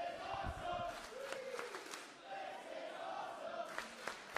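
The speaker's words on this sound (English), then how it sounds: "And listen to the crowd." Wrestling event crowd cheering and roaring in a venue, a dense continuous wall of shouts and yells with several louder swells and whoops, heard from a distance throughout.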